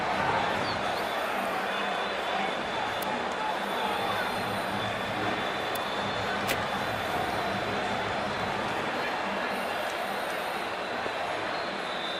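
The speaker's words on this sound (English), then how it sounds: "We're about to get underway and already the crowd is up and about." A stadium crowd in a cricket video game, an IPL match between Mumbai Indians and Chennai Super Kings, makes a steady, dense roar of cheering and chatter that holds at an even level throughout with no distinct peaks.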